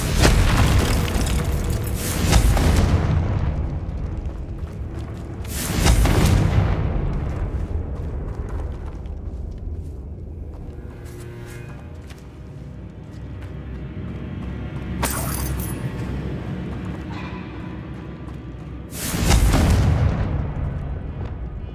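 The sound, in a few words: Confringo fire-blast spell explosions in Hogwarts Legacy video game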